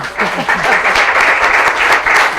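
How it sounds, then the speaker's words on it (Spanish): Audience at a cultural heritage conference applauding two speakers, loud sustained clapping from a full room, close and even throughout. "a las dos le pedimos un aplauso"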